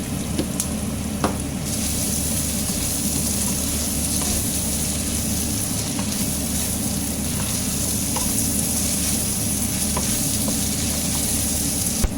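Rice sautéed with smoked fish (mbouga) frying in a pan gives a steady, close sizzle and crackle that runs unbroken throughout, with a few faint clicks and no voices.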